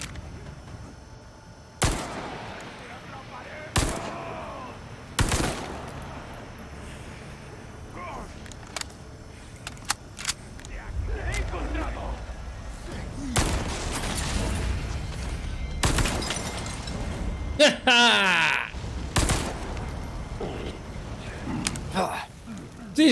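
Gunshots ring out in the survival horror video game Resident Evil, sharp isolated pistol cracks spaced a few seconds apart, then a denser burst, with someone talking between shots.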